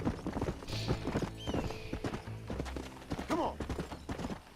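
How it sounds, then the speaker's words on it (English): A Kentucky Saddler horse gallops in a race in Red Dead Redemption, a fast steady clip-clop of hooves with a brief whinny, close and loud over busy game ambience. "thank God the Kentucky Saddler's not exactly a slow horse."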